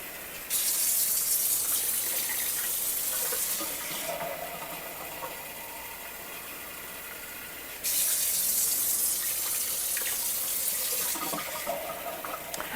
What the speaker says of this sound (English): I'm going to add some more water here. I'm going to add it all the way up to the top.